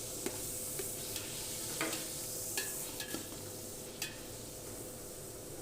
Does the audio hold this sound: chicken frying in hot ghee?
yes